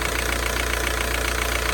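A warmed-up VW ALH TDI diesel engine idles close by, a steady rhythmic clattering knock with a constant low drone, even and uninterrupted.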